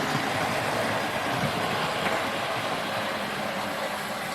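A 1986 Hornby Saint class model locomotive runs steadily on its track, giving a continuous close mechanical hum and rumble with no talk.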